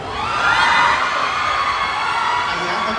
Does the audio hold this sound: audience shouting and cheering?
yes